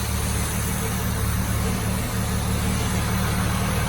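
A Pontiac OHC Sprint 6 engine idles in gear with a slightly rough, steady low rumble, close and continuous throughout with no talking.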